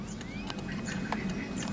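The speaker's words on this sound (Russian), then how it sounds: "Чайки кричат." Gulls calling near Navagio Beach on Zakynthos, Greece: a few short, sharp cries scattered over steady low outdoor rumble, fairly faint with no speech.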